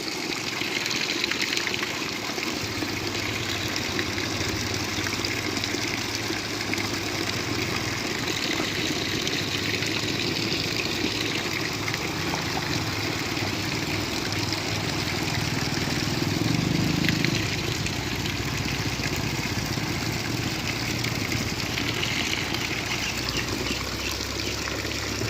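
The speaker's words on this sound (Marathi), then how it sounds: "मित्रांनो हे ऑटोमॅटिक पाणी बाहेर पडतं मित्रांनो." Water gushes on its own from a hand pump, a steady, continuous rushing flow that stays fairly loud and even throughout, with no voices.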